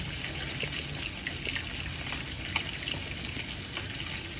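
Dalagang bukid fish frying in oil make a dense, continuous crackling sizzle at a constant level, close by and with no talking.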